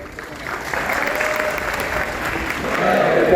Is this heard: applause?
yes